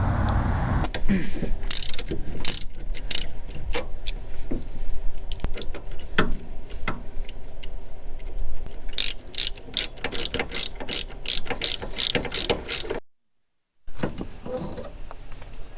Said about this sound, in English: Let's jack this up just a little more so we don't get any oil.